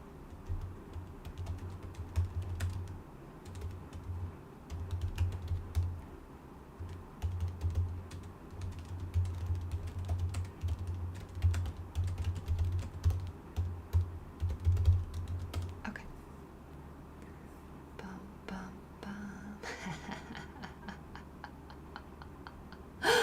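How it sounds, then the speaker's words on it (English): Fingers type in irregular bursts on a computer keyboard for ASMR, a soft close clatter of clicks and taps with brief pauses, a low background hum, and a faster patter near the end. "I'll have a little ASMR typing."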